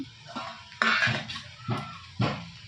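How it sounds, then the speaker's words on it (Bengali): A metal kadai set down on a home stove in a Bengali kitchen, giving several sharp clanks and scrapes of metal on metal in an uneven rhythm, close and fairly loud, with no talking. "তো কড়াই একটা কড়াই বসিয়ে দিয়েছি"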